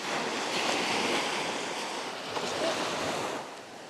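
Waves washing onto a secluded Bahamas beach, a steady, loud hiss of surf rolling and breaking close by with no pauses, mixed with a light wind rush.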